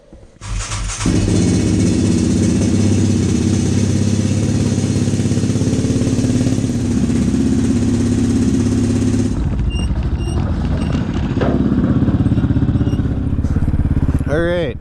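A Yamfaha Raptor ATV engine runs loud and close after a brief start, holding a steady rumbling idle, then drops off for a moment and revs back up to a strong, sustained roar.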